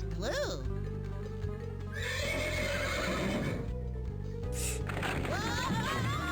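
A horse named Elmer in the Freddi Fish 4 video game gives a loud, close, shrill whinny that rises and wavers, followed by cartoonish game sounds and hoof-like clopping.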